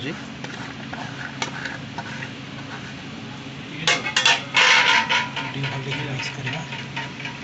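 Chopped coconut being stirred and mixed in a pot, giving a steady scraping under low background hum, with a louder burst of clattering strokes in the middle of the clip.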